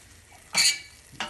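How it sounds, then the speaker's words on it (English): Grilled cheese sandwich frying in a pan, giving a brief burst of sizzle with a clink of the pan or utensil, followed by a second shorter hiss; no one speaks. "As you can see, it's sizzling a little bit."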